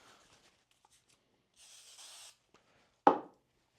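A short hissing burst of Super 77 aerosol spray adhesive, under a second long, in a quiet room, followed shortly by a sharp tap.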